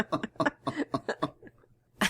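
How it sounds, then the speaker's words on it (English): A woman coughs in a quick series of close, loud bursts, with a short pause before one final cough. "don't start coughing now"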